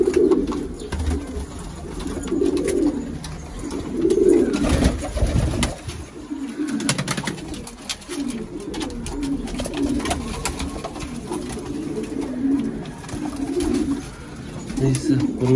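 Colorful pigeons coo repeatedly at close range while eating feed, soft rolling calls recurring throughout, with someone talking over them.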